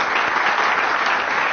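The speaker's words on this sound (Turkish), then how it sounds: "Alkış olmayınca gelemiyorum diyor." Dense, steady applause from a studio audience at a Turkish televised talk on sadness and depression, loud and continuous throughout with no voices standing out.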